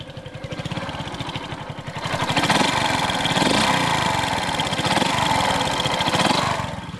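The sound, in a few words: homemade motorbike engine started and running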